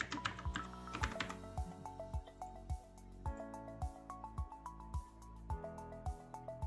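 Quiet typing on a computer keyboard while a name is entered into an editable table column, the soft key clicks running over a steady, rhythmic musical beat.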